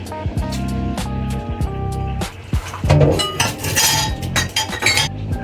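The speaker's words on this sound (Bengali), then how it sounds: "এখন আমি মাংসগুলোকে মিক্সিং বলে দিয়ে দিচ্ছি" Meat is tipped into a large mixing bowl with repeated clinks and clatters of utensils against the bowl. The metallic rattles are close, followed by rustling and shuffling handling noises.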